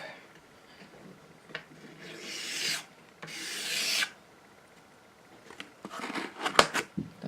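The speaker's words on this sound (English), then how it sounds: "just wipe that on cardboard or rag or whichever you have nearest to you" Glue is wiped off onto cardboard or a rag while building a guitar, heard as a few close, dry rubbing strokes, each about a second long, between quieter handling noises.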